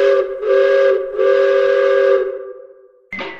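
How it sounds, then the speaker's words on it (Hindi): A train-style whistle sounds in several long, loud tonal blasts with brief breaks, trailing off before a short final burst, with no speech over it. "रेलगाड़ी रेलगाड़ी छुक छुक छुक छुक छुक छुक छुक"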